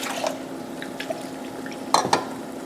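A thick batter of rice flour, chilli and water is stirred in a pan. It gives soft, intermittent wet scrapes and a few light clinks against the pan, quiet and close over a low background hum.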